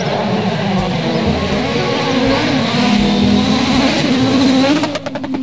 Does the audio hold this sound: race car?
yes